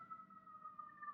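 A faint, distant emergency siren wails steadily in New York City, a thin wavering tone far off with no talk over it.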